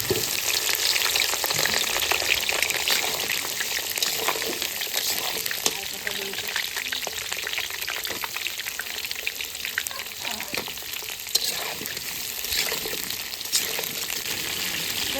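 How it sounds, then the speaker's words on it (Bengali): Steady, loud sizzling and crackling of cauliflower frying in hot oil, with occasional stirring sounds and faint voices in the background. "এবার আমি ফুলকপিটা ভেজে নেব পনির রান্না করার জন্য"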